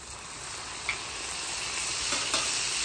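Fermented bean paste with hoisin sauce and cooking wine sizzles steadily on a hot griddle for twice-cooked pork, a continuous close frying hiss with a couple of faint stirring scrapes.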